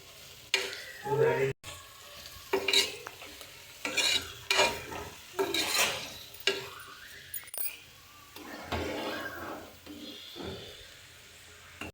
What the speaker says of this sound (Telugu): తలకాయ కూరని అయితే పొయ్యి మీద వేస్తున్నాను.